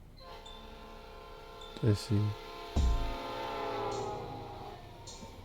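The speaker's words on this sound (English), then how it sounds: "Train's leaving any minute." In the Pokémon Reborn video game, a train sounds several loud horn blasts as it departs, followed by steady rumbling rail noise. A voice briefly talks over the sound.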